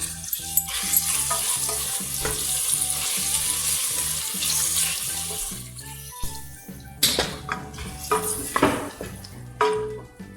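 Onion and mint fry in a pan for mint rice, a steady close sizzle broken by repeated scraping stirs and light clinks of a utensil against the pan, with a faint tonal background running underneath.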